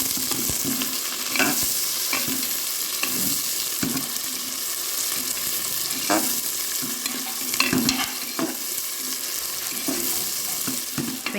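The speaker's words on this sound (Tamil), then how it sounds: "வெங்காயம் இது மாதிரி நல்லா கோல்டன் கலரில் மாறி வர அளவுக்கு நல்லா வதக்கிடணும்." Sliced large onions sautéing in a pan, a steady loud sizzle with rhythmic scraping strokes of a spoon stirring them every second or so, close by and with no talking.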